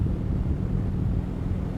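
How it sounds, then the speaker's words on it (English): Cool breeze blowing ahead of an approaching thunderstorm, heard as steady low wind rumble buffeting the microphone without pause throughout. "And you can feel the cool breeze coming in."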